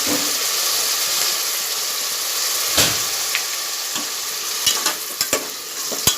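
Onions frying in oil with salt until browned for mutton dal gosht, a steady close sizzle with occasional stirring clinks and scrapes.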